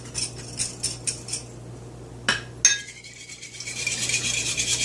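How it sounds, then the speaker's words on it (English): A spoon stirs chili powder and other spices into a Latin-style marinade, tapping and clinking against the bowl several times at close range before a sharper clink and a softer swishing scrape. "I do like to keep stirring as I go."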